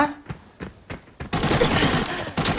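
Scav gunfire in the Arena Breakout shooter: a few separate sharp shots open, then a dense, sustained burst of firing fills the rest, fairly close, with a voice talking over it.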